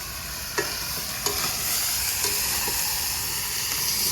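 Pork curry sizzles hard in a pan as water goes in, giving a steady, close frying hiss broken by a few soft clicks of stirring, with no talk.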